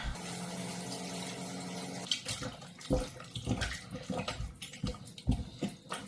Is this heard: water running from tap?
yes